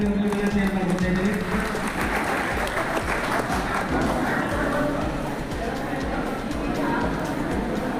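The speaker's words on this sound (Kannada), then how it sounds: "ಚಪ್ಪಾಳೆ ಮುಖಾಂತರ ವಿನಂತಿಯನ್ನು ಮಾಡ್ತಾ ಇದ್ದೀವಿ" An audience at a community felicitation and student award ceremony claps continuously, a dense roomy patter that carries under a voice speaking over a loudspeaker throughout.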